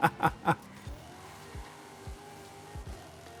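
Car engine in Forza Horizon 5 during a race, with three loud low bursts at the start followed by a steady engine hum and repeated short downward sweeps as the car brakes and shifts.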